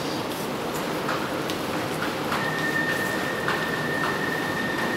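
An MRT metro train hums and rumbles steadily as it arrives in an enclosed station in Bangkok, with a thin high whine rising partway through and faint clanks in the background.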